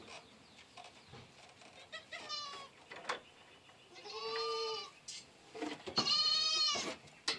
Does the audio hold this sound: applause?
no